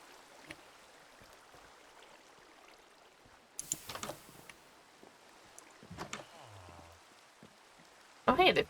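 Steady Minecraft rain falls as a soft, even hiss throughout, broken by scattered clicks, thumps and a burst of louder game noise near the end.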